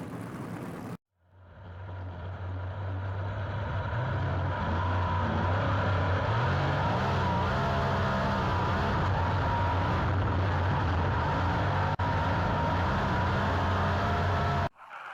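A dirt-track race car roars through a qualifying lap at Boomtown Speedway, with a loud, sustained engine drone that rises quickly after a brief cut and holds steady at close range. No one speaks.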